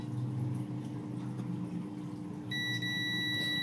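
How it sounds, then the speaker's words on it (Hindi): A multimeter on continuity test gives a steady, clear beep while probing traces on a Daikin inverter air conditioner PCB with an E9 error. The tone starts partway through and holds to the end over a low background hum. "आप सुन सकते हैं बीप हमें सुनाई दे रही है"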